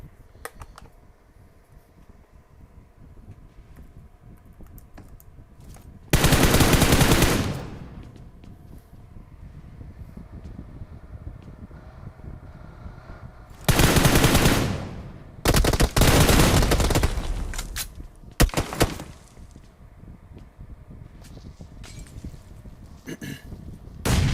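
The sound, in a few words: gunfire in a video game battle royale match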